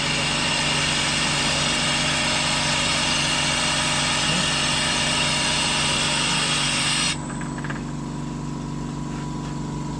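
A David Brown 996 tractor engine idles at about 700 RPM, a loud steady diesel drone with constant tonal hum that drops abruptly in its upper register partway through, no voices.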